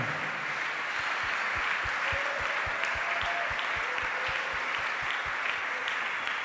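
A church congregation claps steadily to acclaim the Lord during a worship service, with rhythmic, evenly spaced handclaps over a dense wash of crowd applause and cheering that runs throughout.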